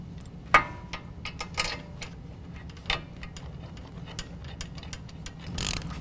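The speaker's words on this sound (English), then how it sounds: "We're going to tighten those down to 148 foot-pounds." A wrench tightens the brake caliper bolts on a 2015-2017 Ford F-150 4WD, giving sparse, irregular mechanical clicks and ticks, near and fairly quiet, with one sharper knock early on.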